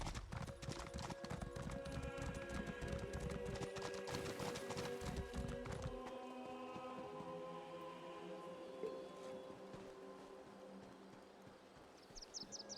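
Steady clip-clop of horse hooves trotting at an even rhythm in The Elder Scrolls game, close and fairly loud, with game music and ambience layered underneath.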